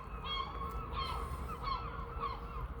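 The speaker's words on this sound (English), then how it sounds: "If you can hear us over the bloody seagulls, I swear to God." Seagulls call at night in Sunderland, a series of loud honking, squawking cries repeating about every half second, close by over a steady background rumble.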